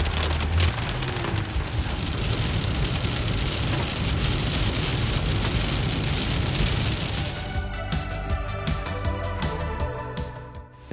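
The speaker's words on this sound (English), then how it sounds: "The weather started changing again, and we got lots of thunder and lightning." Steady rain pours down during a thunderstorm in the Oregon desert near Steens Mountain, a dense continuous hiss for most of the stretch before thinning into scattered drips and patters toward the end.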